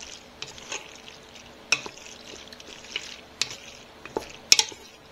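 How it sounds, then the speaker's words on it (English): A spoon stirs Kraft Deluxe macaroni and cheese in a pot, giving soft wet squelching with a few sharp scrapes and clinks against the metal, close and fairly quiet. "Stir this all around real good here."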